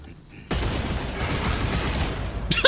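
Gunfire in the video game Redfall, a dense burst of rapid shots beginning abruptly after a quiet moment and rattling on continuously, loud and close, with a few sharp metallic clicks near the end.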